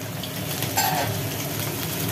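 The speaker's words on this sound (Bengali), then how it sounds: "এবার কড়াই তেল পড়েছে, এবার মাছ ভাজা হবে।" Hilsa fish fry in hot oil in a wok: a steady crackling sizzle throughout, with one brief metallic clink partway through and no talking.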